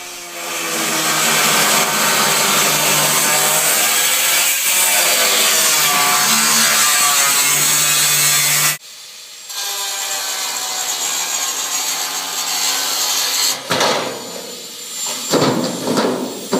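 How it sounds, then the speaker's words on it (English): Angle grinders, large and small, cut a window opening through the steel wall of a shipping container, a loud continuous abrasive whine with changing pitch, then a short pause and further bursts of cutting. "I used large and small grinders to cut the hole."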